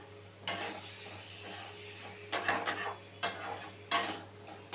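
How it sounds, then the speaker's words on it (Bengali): Green peas go into a pan of spiced oil, giving a soft sizzle with clinks of a metal spoon against the pan and several stirring scrapes, close and fairly quiet. "সেখানে আমি মটরশুঁটিটা দিয়ে দিলাম"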